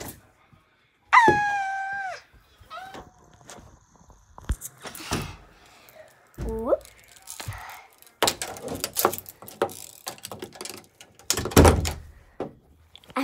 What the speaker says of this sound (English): slam the door